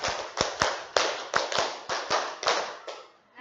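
A secondary school class claps together in unison for the 'tepuk harmoni' routine: about ten sharp claps in a quick, even series, each with a slight room echo, trailing off at the end.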